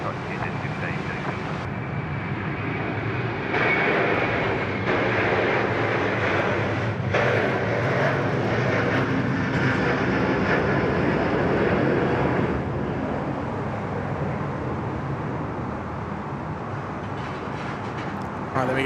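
A Qantas airliner at Sydney Airport gives a loud, steady engine roar that holds and swells for most of the stretch, with voices talking over it.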